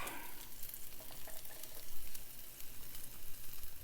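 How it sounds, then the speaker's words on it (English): Garlic and white scallions fry in a drizzle of oil for a creamy Dijon chicken dish, producing a soft, continuous close-up sizzle with faint crackles and no talking. "I'm going to add the garlic and the scallions"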